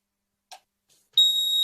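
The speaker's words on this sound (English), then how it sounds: "then it will beep once that process is done" A single steady high electronic beep from an HS440D GPS drone confirms joystick calibration, sounding for about half a second after a brief faint click, close and clear with no talking.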